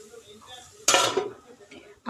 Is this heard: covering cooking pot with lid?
yes